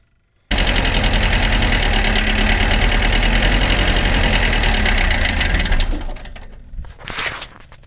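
Mitsubishi K4E 1.4-litre four-cylinder diesel in a 1970s Hitachi excavator runs loud and steady up close, a rough knocking idle for about five seconds before it sputters and dies away.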